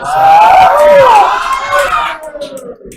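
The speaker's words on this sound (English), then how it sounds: "there's a big reaction from the crowd" Crowd at a pool match in Da Nang erupting into loud cheers and shouts, sustained for about two seconds and then fading into scattered excited voices.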